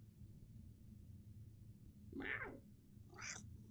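A cat meows twice close by, a drawn-out call followed by a shorter, higher one, over a quiet low background hum.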